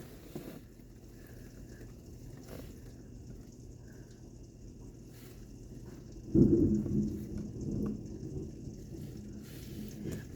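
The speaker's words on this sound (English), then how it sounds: "Looks like the rain is slowly but surely starting to die out." A quiet, steady wash of rain during a dying thunderstorm, broken partway through by a deep, rolling rumble of thunder that swells and slowly fades back into the rainfall.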